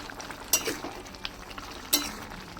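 Spatula strokes scrape and clack in a pan as a reduced prawn curry with beans, potatoes, cauliflower, kohlrabi and tomato is stirred, two sharp knocks over a soft simmering sizzle, close and with no talking.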